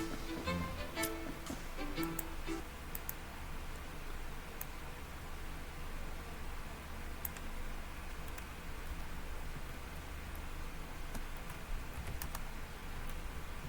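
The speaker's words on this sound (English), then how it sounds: "I'm just typing something real quick." Steady, fairly faint clicking of a computer keyboard as someone types continuously, with small bursts of quicker keystrokes near the start.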